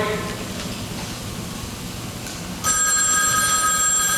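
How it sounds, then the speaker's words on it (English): A telephone bell rings during a high school stage production of the play Harvey. Quiet room noise comes first, then a loud, sustained electric ring starts partway through and continues to the end. "I have to answer the phone."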